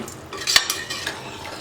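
Utensil stirring a rice mixture for cauliflower biryani in a cooker pot, with several scraping and clinking strokes of metal against the pot, one louder knock near the middle, heard close up with no talking.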